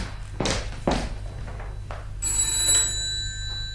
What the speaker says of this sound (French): Ah, le téléphone, excusez-moi.